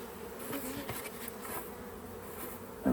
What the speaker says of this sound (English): And the bees are all hanging out the front.